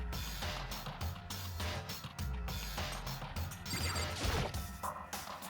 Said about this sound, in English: Did a giant piece of trash just fall down here?